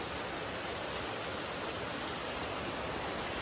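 Steady rain falls continuously as an even, dense hiss of drops, close and unbroken, with no voices.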